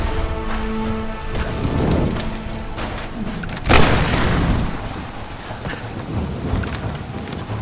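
A building explodes in the Tomb Raider video game, a broad rumbling boom that bursts out suddenly amid a steady bed of game ambience and debris noise, then slowly settles back into the background.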